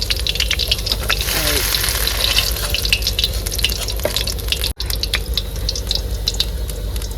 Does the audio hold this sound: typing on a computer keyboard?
no